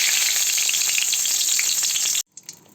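Whole dried red chilli, a bay leaf and cumin seeds sizzle loudly in hot mustard oil in a kadai for a Bengali fish curry, a dense steady crackle that cuts off abruptly near the end.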